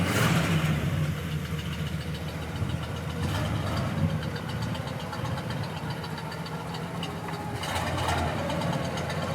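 A 1966 Pontiac GTO, a low-mileage survivor with a modest exhaust, idles with a steady, low rumbling engine tone, close and continuous, with brief swells in volume.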